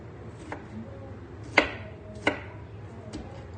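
A knife chops a tomato on a cutting board, about five separate strikes at an uneven pace, two of them sharp and loud, close up with no talking.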